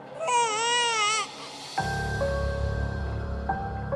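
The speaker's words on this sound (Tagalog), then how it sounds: "gabi-gabi po akong hindi pinapatulog ng umiiyak na sanggol." An infant's wavering cry rises for about a second in an eerie horror-story setting, then cuts off and gives way to a low droning hum with sustained tones.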